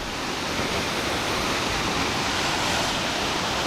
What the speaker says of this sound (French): nous voilà au pied de la première fameuse cascade